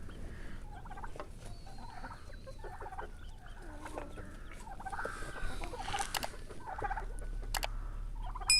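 Barbezieux chickens call and cluck in a farmyard, a mix of short clucks, squawks and drawn-out crowing notes from several birds at moderate distance over steady background noise.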